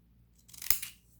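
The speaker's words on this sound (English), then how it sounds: "use my scallop scissors" Scallop-edged scissors snip through a small paper scrap in one crisp, close cut that rises quickly and fades within a second, with no voices.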